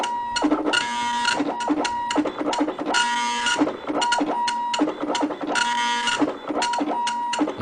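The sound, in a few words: printer printing in best quality mode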